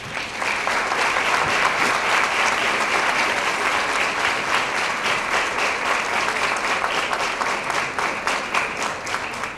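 A congress audience applauds continuously, dense clapping holding steady and loud throughout, becoming more rhythmic and in unison toward the end.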